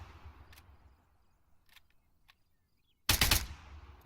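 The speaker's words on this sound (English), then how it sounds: "Now what if I fire off the rest of these rounds?" After a near-silent stretch with a few faint clicks, a short, loud burst of automatic gunfire erupts as a video game weapon empties its remaining rounds, then cuts off.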